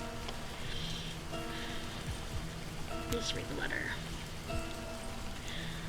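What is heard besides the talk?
rain falling in Livber: Smoke And Mirrors, video game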